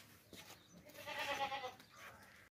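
A Makhi Cheeni goat, a long-eared desi goat kept for Qurbani, gives a single drawn-out quavering bleat that rises to a peak in the middle and then fades out. It is faint and heard alone.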